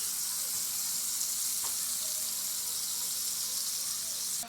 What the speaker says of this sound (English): Let's do some basil butter toast